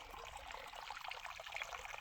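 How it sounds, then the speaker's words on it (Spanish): Spring water seeping out from under the ground on the flanks of Sajama, Bolivia's highest mountain, runs in a steady, close, unbroken trickle and stream for two seconds with no talking. "Qué increíble cómo sale agua de abajo de la tierra. Una vertiente."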